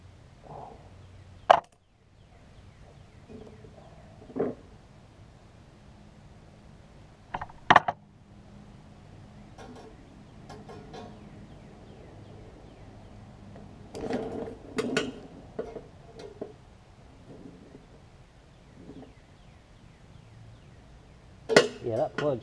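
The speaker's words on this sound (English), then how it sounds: "It's just hard to get these plugs off of these overhead valves." A spark plug is worked loose with a ratchet wrench on a Briggs & Stratton OHV push mower engine: scattered metallic clicks, clanks and ratcheting taps, close and fairly quiet, with a few short louder knocks.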